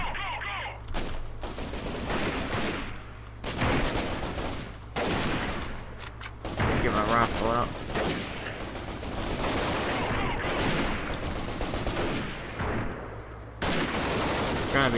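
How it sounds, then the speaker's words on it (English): Sustained gunfire from the game Guerrilla Warfare, with dense volleys and bursts rolling almost continuously, loud and close at times and nearly unbroken from start to finish. "they're shooting over to my right, and that's not good"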